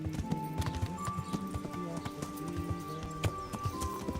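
Horse hooves clip-clop in a quick, uneven rhythm against a ground surface in the video game Kingdom Come: Deliverance, accompanied by a soft melodic tone in the background.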